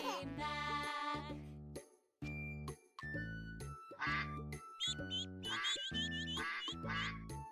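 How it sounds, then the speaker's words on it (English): Duck quacks repeat in a bouncy, song-like rhythm with jingling bell tones, loud and near with short pauses between phrases. "Mother duck said, quack, quack, quack."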